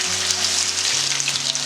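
Whole coriander seeds and chopped ginger fry in hot oil, giving a steady, close hiss with a low electrical hum beneath and no voices.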